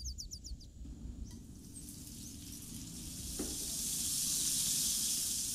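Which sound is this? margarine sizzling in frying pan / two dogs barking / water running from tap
margarine sizzling in frying pan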